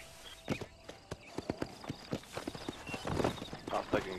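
Horse hooves clip-clop in the Red Dead video game, a brisk run of sharp, regular hoofbeats close by, mixed with game sounds while people talk over them.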